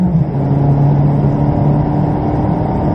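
A Ferrari at speed on the Silverstone circuit, its engine droning loudly and steadily down the straight with a dense, sustained roar close by.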